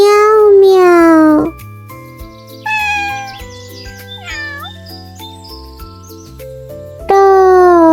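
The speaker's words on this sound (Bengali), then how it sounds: "বিড়াল ডাকে মিয়াও মিয়াও" A cat meows loudly and close by, with one long, drawn-out meow at the start and another at the end. Bright melodic tones fill the gap between them.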